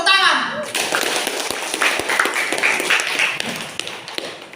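Students clap together in a school classroom, a brisk, dense burst of hand claps following a short voice, loud and close, continuing steadily for several seconds with a few sharper taps standing out.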